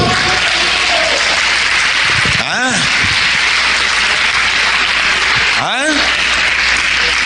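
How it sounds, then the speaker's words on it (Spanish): Congregation at a Holy Week church service breaking into dense, loud applause, continuous clapping that stays strong throughout with a couple of brief whoops or calls rising through it. "Denle un aplauso a Cristo"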